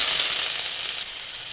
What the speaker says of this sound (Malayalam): ഗ്രേറ്റ് ചെയ്ത് വെച്ച കുമ്പളങ്ങ ആഡ് ചെയ്ത് കൊടുക്കാം.